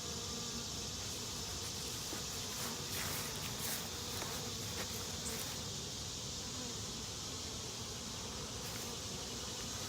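Bees in an opened hive being searched for queen cells, giving off a steady, close, continuous buzzing drone throughout, with no talking.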